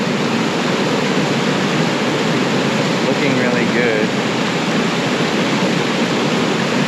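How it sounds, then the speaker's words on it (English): A waterfall on Vancouver Island pours steadily into a river, a loud, unbroken broadband rush that fills the whole stretch, with a brief voice faintly audible under the roar. "You can see that waterfall coming here"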